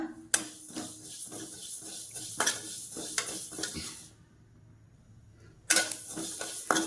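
Fennel seeds dry roasting in a pan on a medium flame, light rattling and scraping stirs with spoon knocks against the pan, close, pausing into near silence for a couple of seconds before the stirring resumes, with no talk.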